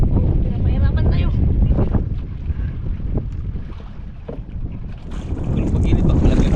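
Steady wind roars across the microphone in heavy low buffeting gusts while fishing from a boat, its engine droning underneath and a brief voice now and then.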